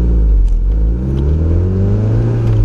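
A turbocharged car engine running 22.6 PSI of boost pulls hard in second gear on a dyno, a loud, steady roar that climbs in pitch as the revs rise, with no voices over it.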